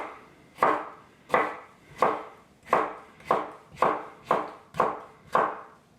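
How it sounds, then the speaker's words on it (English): A kitchen knife slices food into strips on a cutting board, making eight crisp, evenly spaced chops about 0.7 seconds apart. The cuts sound close and clear, with no voices. "And now you want to cut them into strips, I guess."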